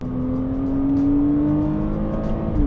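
A Porsche Cayman engine in sport mode pulls steadily under acceleration, a sustained close drone with a rising tone, with no voices over it.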